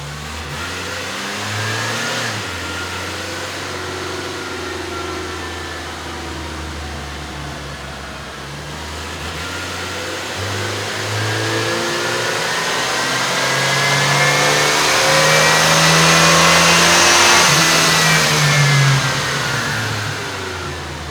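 A 1993 Fox Body Mustang coupe's 2.3L four-cylinder engine with an automatic transmission revs through a dyno pull, droning steadily and then climbing in pitch and loudness toward a peak before easing off, with no talking.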